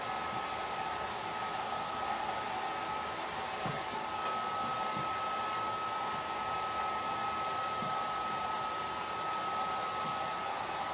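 A hair dryer blows steadily and loudly for the whole stretch while drying wooden craft pieces before sanding, a constant airy roar with a faint high whine.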